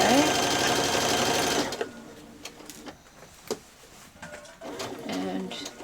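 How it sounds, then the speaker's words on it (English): A sewing machine stitching a 5/8-inch seam along the yoke of a child's dress, a loud, steady whir for under two seconds that then stops, followed by quieter handling sounds and a brief spoken word. "As I'm stitching, as usual, I'm pulling my pins out as I"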